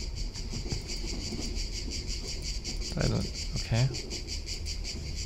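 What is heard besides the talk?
cicadas chirping in a video game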